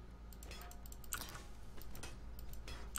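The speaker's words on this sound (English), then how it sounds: "I need to change keyboard because this one is loud" Fast clicking keystrokes on a loud mechanical keyboard with blue switches, close by and irregular, over a low steady hum.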